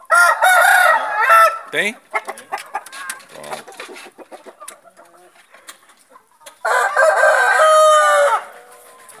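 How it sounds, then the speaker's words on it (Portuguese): A young rooster on a farm crows nearby, loud and strained, twice, with a person talking briefly in between. "O franguinho tá cantando já, o franguinho."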